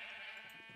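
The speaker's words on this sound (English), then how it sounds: "I got the orange sheep from breeding a yellow and red sheep" A single short sheep bleat from Minecraft, clear and close with no talk.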